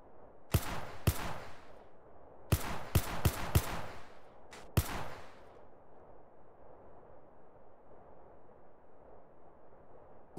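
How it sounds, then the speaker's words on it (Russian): Video game gunfire during shooting practice: a handful of loud, sharp single shots spaced irregularly over the first five seconds, then a low rhythmic background hum with no talking. "Также 5 выстрелов."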